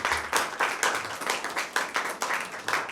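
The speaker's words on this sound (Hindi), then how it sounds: "भरपूर तालियों में उनका वेलकम करें" An audience at a Bible quiz program applauds to welcome a priest, giving steady, vigorous clapping from many hands in rhythmic waves with no voices heard.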